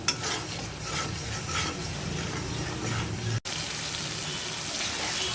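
Mustard paste sizzling in a pan as it is stirred for a water-lily and shrimp dish, a continuous bright frying hiss with soft scraping strokes and a brief dropout near the end.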